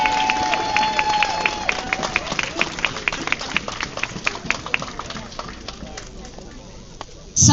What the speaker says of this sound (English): So a round of applause for Kim, please.